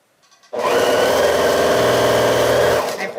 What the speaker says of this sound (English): I'm probably jumping the gun a little here and sewing rows together